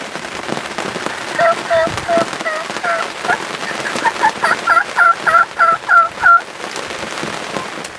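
Wild turkeys gobble in a rapid run of repeated calls, fairly close, over a crackling background of rain on surfaces.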